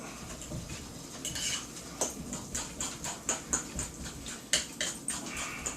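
Raw chicken turned around in a bowl coated with sour cream, giving a run of close wet squelches and soft knocks against the bowl in an uneven rhythm, with no one talking.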